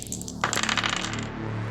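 A few dice clatter and tumble across a hard surface in a short, close burst of bright rattling clicks, settling within about a second, with no talking.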